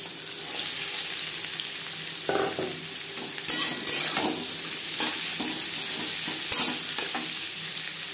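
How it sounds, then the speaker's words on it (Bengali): Chopped onion frying in hot refined oil in a kadai for chicken, a steady close sizzle broken by several scraping stirs of a spatula across the pan. "তেল গরম হয়ে যাওয়ার পর দিয়ে দেবো পেঁয়াজ কুচি"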